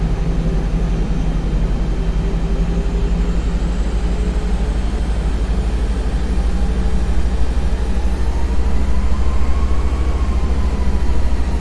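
An Airbus A320 in the X-Plane 11 flight simulator rolls for takeoff, with a steady, loud engine roar and low rumble holding for the whole stretch. A faint rising whine sits over the drone, and no one speaks.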